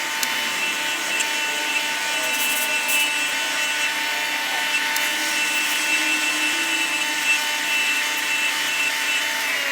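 A bench grinder with a wire wheel scrubs rust and debris off brake caliper slide pins, giving a loud, steady, continuous high whirring grind that holds without pause throughout, with no talking.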